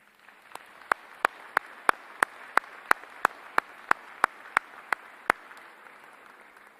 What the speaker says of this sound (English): let's show our thanks with a round of applause